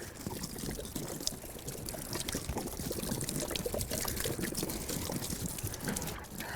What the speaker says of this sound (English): We'll also add some water to this too.